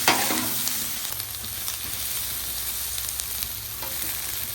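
Potatoes fry cut side down on a Blackstone griddle, giving a steady, close, broadband sizzle with small crackles that continues unbroken throughout, with no talking.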